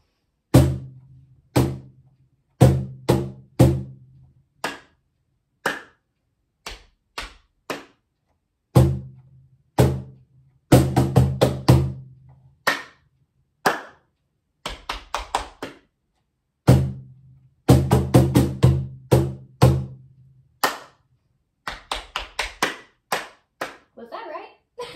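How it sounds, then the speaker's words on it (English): Hands clap out a rhythm, alternately slapping the knees and striking together, in sharp, close bursts of quick groups and single beats separated by short pauses. "I'll just use my hands to clap it"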